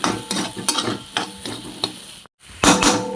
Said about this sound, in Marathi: जरा गरम मसाला मिक्स करून घ्या।